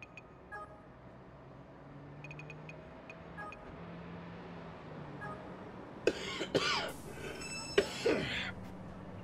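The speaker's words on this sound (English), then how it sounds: "Excuse me again for all the coughing." A man coughs and clears his throat twice in quick bursts near the end, loud and close against a quiet hum of distant game traffic, with no speech.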